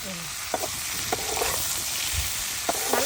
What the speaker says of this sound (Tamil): நல்லா சின்ன வெங்காயம் எல்லாமே நல்லா வதங்கிட்டு வரும்